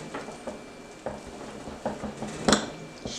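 Waffle batter with Crisco butter and cinnamon being mixed in a bowl, heard as a series of close, irregular clinks and scrapes of a utensil against the bowl with soft stirring between them.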